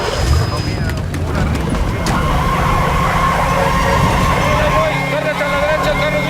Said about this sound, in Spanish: Oye, una ambulancia.